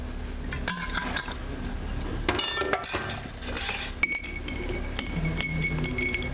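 Spoon stirring a Bloody Mary of vodka, lemon juice, sauce and tomato juice in a glass, giving repeated bright clinks and taps against the glass at a close, steady level with no talk.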